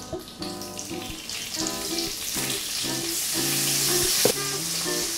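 Onions hitting a very hot pan of olive oil for beef stroganoff, a loud, bright sizzle that builds and stays steady, with stirring scrapes and tonal clinks underneath.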